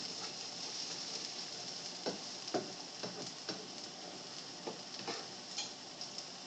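Eggs and hot dogs frying in a pan, a steady quiet sizzle broken by several sharp pops and ticks, close and alone without any talk.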